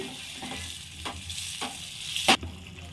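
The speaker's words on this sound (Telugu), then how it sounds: "ఇలాగా మొత్తం కలిపేసుకోవాలి" Spices are mixed into a paneer curry in a hot pan, with a low sizzle underneath and a few separate scraping stirs, the last one louder and sharper.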